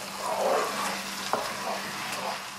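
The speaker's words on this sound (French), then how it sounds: "Remuez bien votre riz jusqu'à ce qu'il n'y ait plus de liquide." Risotto rice stirred in a pan after deglazing with white wine, a soft steady simmer with scraping spoon strokes and one sharp knock near the middle, no one speaking.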